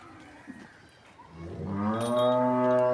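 A Jersey-Friesian cross cow moos in a long, rising, harmonic call that swells loud and close after a quieter stretch of farmyard background.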